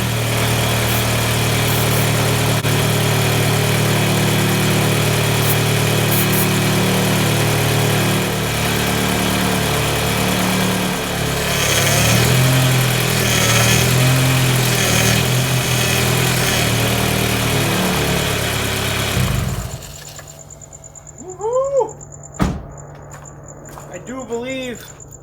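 A Prelude car engine idles steadily with a whining, groaning power steering hum on top, then cuts off, leaving quiet with a few clicks and faint sounds.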